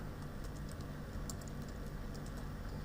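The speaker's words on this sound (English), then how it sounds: "Click rename and type the new name" Someone types a new file name on a Windows computer keyboard: soft, rapid key clicks in an uneven run over a steady low room hum, fairly quiet and close, with no talking.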